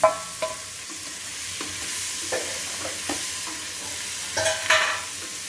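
Capsicum stir-fried in a pan for vegetable brinji: a steady soft sizzle with a few sharp spatula scrapes and stirs, louder bursts near the end, no voices.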